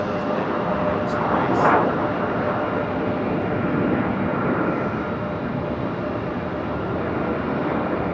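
Boeing 717 airliner moving on the ground at Raleigh-Durham airport, a continuous broad engine roar steady throughout, heard from a distance with faint voices nearby.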